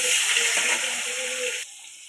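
Fish frying in hot oil in a kadai as it is turned over, a steady close sizzle and hiss that drops away abruptly near the end.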